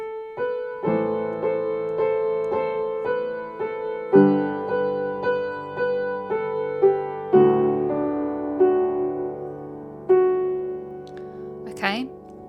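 A single melodic instrument, likely a piano, plays a tune as a lesson phrase of struck, sustained notes at a steady moderate pace, close and clear, with no talking.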